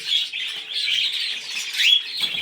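Small aviary birds chirp and twitter continuously at close range, a dense high-pitched chatter of overlapping calls with a few sharper squeaks and no voices.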